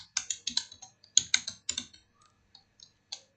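Fingers tap at a computer keyboard while entering Excel VBA code, producing quick, irregular bursts of crisp key clicks with short pauses between them. The keys sound close and moderately quiet, and no one speaks.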